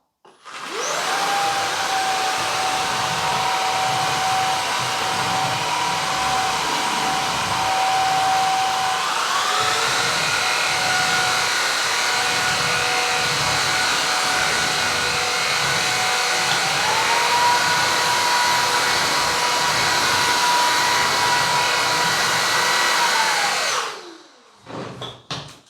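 A Shark vacuum cleaner runs for about 23 seconds as one loud, steady whine and whoosh with no speech over it. Its pitch steps up partway through, then it winds down and stops near the end.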